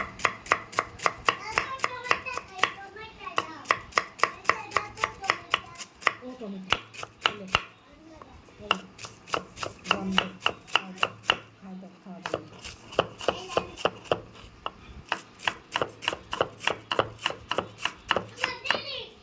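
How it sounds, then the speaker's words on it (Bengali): A knife chops cabbage on a cutting board for chicken fried rice, with rapid, evenly spaced strokes in steady bursts and a short pause partway through, close and fairly loud with no voices. "এই দেখুন এখন পাতাকপি কেটে নেব।"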